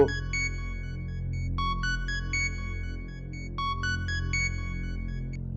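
A phone ringtone plays a repeating electronic melody of bright tones in a drama scene, steady and fairly loud over a low background hum, with no talking.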